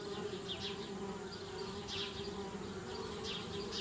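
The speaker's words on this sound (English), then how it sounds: "Darn bees, trying to move into our treehouse." Steady buzzing of bees around a treehouse in the adventure game Anna's Quest, a continuous close drone with no talking.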